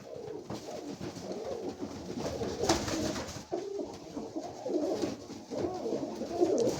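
Male Yeysk pigeons coo in soft, repeated murmuring phrases, a steady flock sound with layered calls overlapping at moderate distance.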